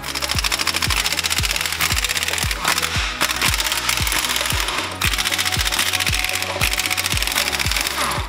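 Impact wrench or power tool loosening bolts beneath an electric off-road monster truck build, a loud, rapid mechanical hammering rattle running nearly continuously with brief pauses between bolts.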